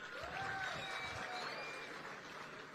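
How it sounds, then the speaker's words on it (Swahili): At an International Women's Day celebration, an audience applauds Mama Dorcas Rigathi, a soft, distant wash of many hands clapping in a large venue, faint and even throughout, with a thin whistle-like tone drifting through. "Makofi kwa mama"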